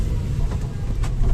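Citroën Ami small electric car driving, a steady low road rumble and tyre noise continuous throughout, fairly loud and close with no talk over it.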